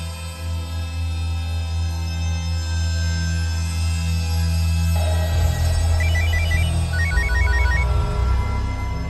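A telephone rings in a home during a crime drama scene, with a repeating electronic ringtone pattern over a steady low hum and background music-like tones, moderately loud and without speech.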